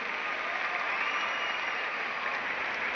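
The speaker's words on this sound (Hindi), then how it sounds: "जोरदार तालियां होनी चाहिए" Broad audience applause after a song at a youth-themed event in India, a continuous even wash of many hands clapping, moderately loud throughout the short stretch.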